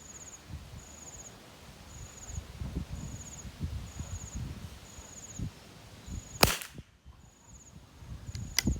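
A single sharp, loud report from a CZ 457 .22 LR rifle fired outdoors during target training, standing out against wind noise and a steady, rhythmic chirping of insects.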